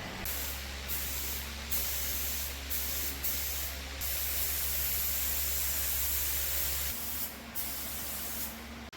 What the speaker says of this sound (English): we're gonna be spraying any minute now